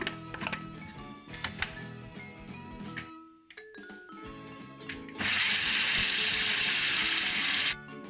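Food processor spinning up and grinding roasted peanuts for peanut butter, a loud steady whirring roar that starts about five seconds in after clattering and handling sounds.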